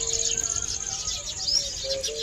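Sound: sparrows chirping

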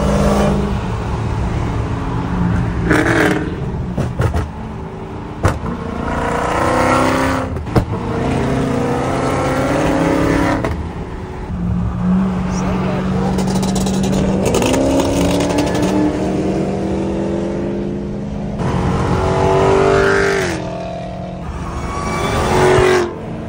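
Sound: Dodge Hellcat cars revving and accelerating in a rolling race

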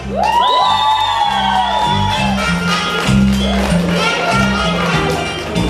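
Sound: audience applause and cheering at children's show

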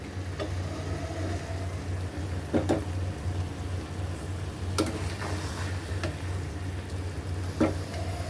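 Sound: sautéing prawns with masala in a pan

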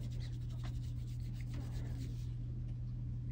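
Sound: stick rubbing an old coin to clean it

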